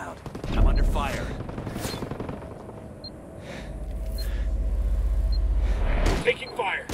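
Video game gunfire: bursts of rapid shots and a sharp crack, then a long rumbling rolling stretch before more shots near the end, fairly quiet overall with brief voices in between.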